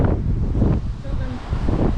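Wind on a hillside among olive trees on Naxos blows in strong gusts, rushing and buffeting against the microphone in a low, continuous roar.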